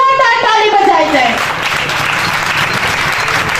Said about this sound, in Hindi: मैं चाहती खुदावंद के जलाल के लिए जोरदार ताली बजाई जाए।